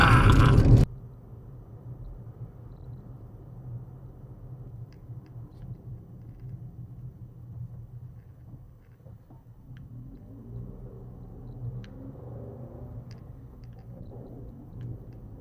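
A steady, low cabin rumble from a car driving through the small town of Wolseley in the Western Cape. A short loud burst opens the sound, then the quiet road drone continues with faint ticks.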